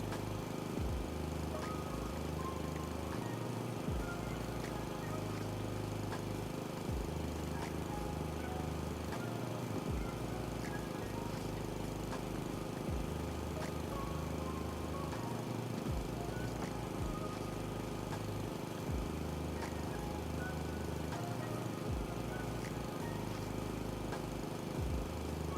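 A lawn mower drones steadily in the House Flipper 2 video game, a continuous low engine hum with a rhythmic pulsing throb that persists unbroken for the whole stretch without pause.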